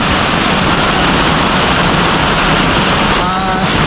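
Heavy typhoon rain, a loud, dense and constant hiss of downpour that fills the whole clip without pause.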